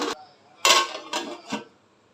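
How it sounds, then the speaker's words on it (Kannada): A metal lid goes onto a cooking pot of egg rice with a few quick clinks and clatters, close and fairly loud, then settles into quiet. "ಮುಚ್ಕೊಬಿಡೋಣ ಪಾತ್ರೆನ"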